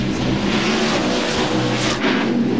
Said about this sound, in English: Brett Bodine, Jerry Nadeau, and Sterling Marlin running together